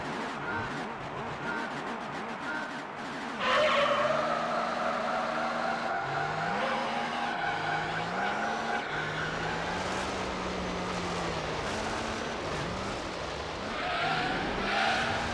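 A rally car races in Gran Turismo 3: A-Spec, its engine revving up and down through gear changes while tires squeal and skid repeatedly in short bursts over a steady engine roar.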